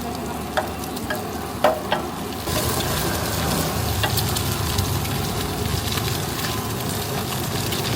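Kue tiaw goreng sizzles and crackles in a wok at a night food stall in Singkawang, a few clanks of the utensils coming first before a loud, steady frying hiss takes over.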